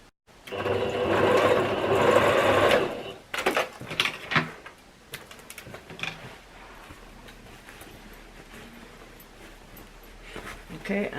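A sewing machine stitches a laptop bag in a sustained, loud run of about two seconds, then stops, followed by scattered handling clicks and shuffling of fabric.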